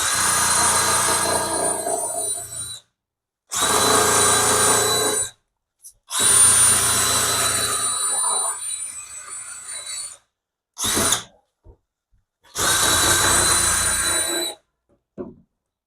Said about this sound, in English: the main thing you want to be doing with this rust and this wire brush is just trying to get the flakiness off